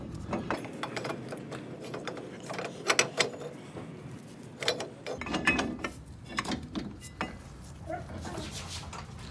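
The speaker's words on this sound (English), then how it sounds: "you slide the rotor onto the caliper, and you slide this on at the same time, trying to line everything up" A brake rotor and dual caliper bracket on a Nissan 240SX are slid into place together, giving close, irregular metallic clinks, scrapes and knocks over a low background hum.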